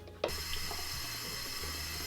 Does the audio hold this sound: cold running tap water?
yes